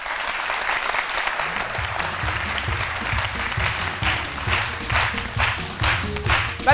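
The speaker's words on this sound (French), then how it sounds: "que je vous demande d'applaudir très très fort." Studio audience claps loudly and steadily to welcome a guest onto a television talk-show set, with a few faint voices and a low musical bed underneath.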